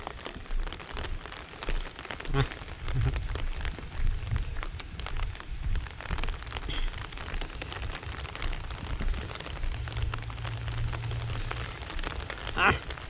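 Heavy storm rain pours steadily over a farm plot in Thailand, a dense, continuous hiss with spattering drops close by and some low rumbling underneath, with no one speaking.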